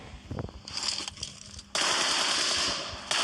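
Gunfire in the mobile battle royale game PUBG Mobile: a few sharp shots early, then a dense, loud burst of automatic fire that holds steady for over a second, with no speech.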